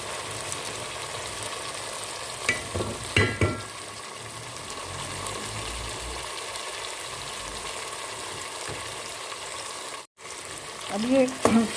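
Chicken with boiled chickpeas frying in a pan, giving a steady low sizzle throughout with a few louder stirring scrapes near the start and end.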